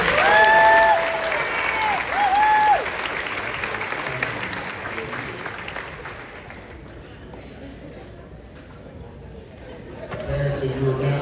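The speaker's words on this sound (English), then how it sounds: "let's give these students one more round of applause" Applause for graduating eighth-grade students at a middle school graduation ceremony, a loud burst of clapping at the start that eases into a long, steady round of crowd applause.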